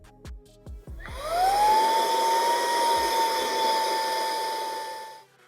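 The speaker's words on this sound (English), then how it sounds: "once you put this at the back of the vacuum, this thing blows" A cordless vacuum cleaner running in blower mode, first a few clicks and then a motor that spins up to a steady high whine with a rushing hiss, held for several seconds before it cuts off.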